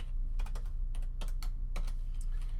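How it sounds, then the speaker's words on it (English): Typing on a computer keyboard while entering HTML tags into a new page: a quick run of crisp key clicks with irregular pauses, close up over a steady low hum. "we'll just start by typing all the tags you know, HTML"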